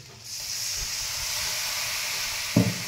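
Rinse water from a spice-paste container hits a hot pan, giving a steady, close hiss and sizzle that holds throughout, with a brief louder clatter near the end.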